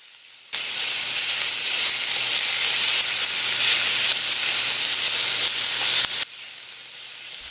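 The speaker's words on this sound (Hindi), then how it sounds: "थोड़ी देर के लिए इनको फ्राई कर लेंगे।" Chopped onions with four medium tomatoes fry in a pan, a loud steady sizzle that starts abruptly, holds evenly for several seconds, then drops away to a quieter hiss.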